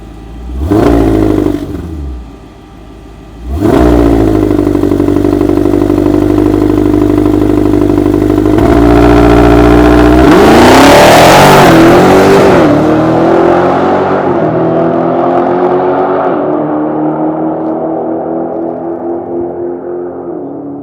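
A Dodge Demon 170 on a drag strip revs at the starting line, dips briefly, then launches with a loud, sustained V8 roar that builds hard and slowly fades as the car pulls away.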